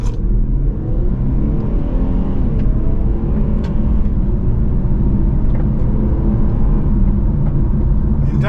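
A 2024 Infiniti Q50 Red Sport 400 engine roars steadily and loudly throughout, a continuous close rumble as the car picks up speed, with faint wind noise.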